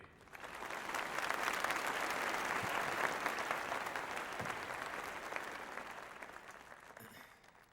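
An audience at a Tamil film event applauds, a dense, even wash of clapping that swells in quickly, holds steady and fades out toward the end.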